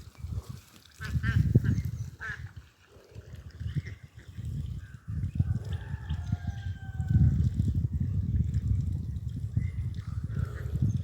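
A backyard flock of ducks kept alongside chickens honks and quacks in repeated loud calls over steady rustling and yard noise, close by and continuous.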